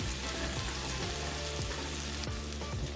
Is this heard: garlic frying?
yes